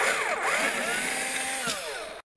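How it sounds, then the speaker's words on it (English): A power drill bores a hole in a Canon Megatank inkjet printer, giving a loud, continuous whining drone with pitch sweeps that stops abruptly near the end. "I'm going to finish drilling."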